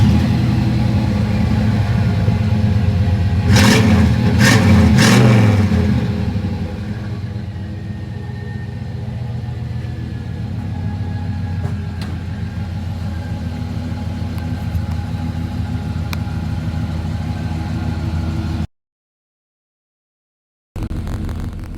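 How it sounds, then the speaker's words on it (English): A 1995 Chevrolet C1500 Silverado pickup's engine cranks and catches with a few sharp bursts, then settles into a steady low idle rumble, close by, before a brief silent gap. "we're going to start the truck and see how it sounds."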